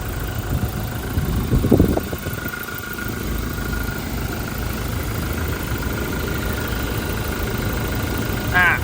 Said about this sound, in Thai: นี่ให้ฟังเสียงเครื่องยนต์ก่นก่อน